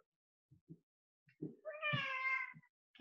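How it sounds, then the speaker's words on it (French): A big cat lets out one drawn-out, wavering meow close by during an online karate class at home, framed by a few soft thumps and taps in an otherwise quiet room. "vous venez d'entendre mon gros méchant chat qui essaie de s'en venir dans ma séance vidéo"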